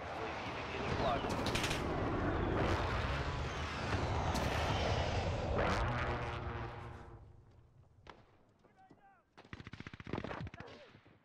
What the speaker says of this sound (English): Allied requesting recon flyover.